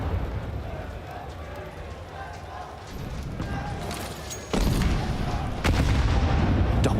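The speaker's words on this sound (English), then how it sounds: "Double stack of grenades onto the head of Magix" Grenades bursting in Counter-Strike during the IEM Katowice 2024 semifinal between Team Spirit and Team Falcons, two sharp booms arriving back to back under constant game noise and a caster's excited commentary.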